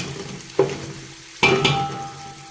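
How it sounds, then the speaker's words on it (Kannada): Onions and green chillies fry in a pan for biryani, a steady sizzle broken by two bursts of stirring scrapes. "ಈರುಳ್ಳಿ ಹಾಕಿದ್ಮೇಲೆ ಒಂದು ಹತ್ತು ನಿಮಿಷ ಬ್ರೌನ್ ಕಲರ್ ಬರಬೇಕಾಗುತ್ತೆ ಸೊ ಚೆನ್ನಾಗಿ ಬೇಯಬೇಕಾಗುತ್ತೆ ಈರುಳ್ಳಿ ಮತ್ತು ಮೆಣಸಿನ್ಕಾಯಿ"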